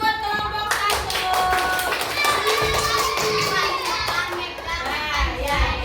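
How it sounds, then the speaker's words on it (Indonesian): Elementary school children in a classroom clap for group 1, rhythmic hand claps mixed with lively young voices chattering and singing close by. "Tepuk tangan buat kelompok 1."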